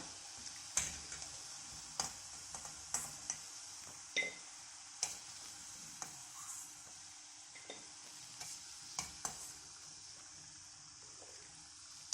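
Moothiravada sweets fry in hot oil, a faint steady sizzle punctuated by sharp ticking clicks and light taps of a utensil against the pan at irregular intervals, heard close with no talking.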